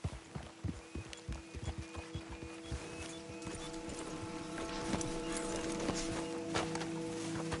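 Horses plod along a dirt road in Red Dead Redemption 2, hooves clip-clopping in a steady, fairly close walking rhythm over low outdoor ambience, with a faint whinny-like tone drifting in.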